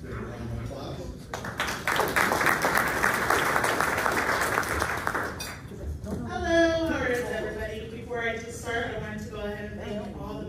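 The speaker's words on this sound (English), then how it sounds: "Round of applause." An audience applauds at a military salute event for about five seconds of dense clapping, then a voice speaks over fading claps.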